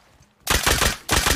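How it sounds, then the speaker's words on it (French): A burst of gunfire from the video game Rust: two loud, rapid automatic volleys of close shots, the second starting just after the first stops, following a quiet lead-in. "J'ai entendu un coup de feu."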